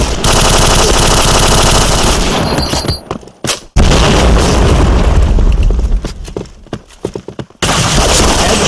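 Point Blank shooter gameplay erupts in loud, dense machine-gun bursts and booming blasts, with a brief drop near the middle and another short gap before heavy gunfire resumes.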